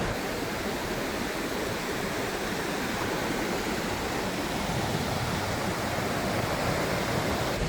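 Salto del Indio, a powerful waterfall between Chile and Argentina, roars as heavy water crashes down in a steady, dense broadband rush with no pauses, loud and close throughout.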